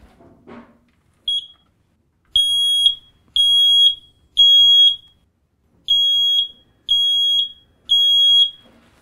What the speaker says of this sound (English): I would like to test a standard smoke alarm just to make sure that you can hear it okay.